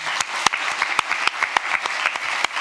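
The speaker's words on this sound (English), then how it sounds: "A warm round of applause." A conference audience applauds after a panel on EU democracy action, a dense patter of many clapping hands with a few sharp, louder claps standing out nearby.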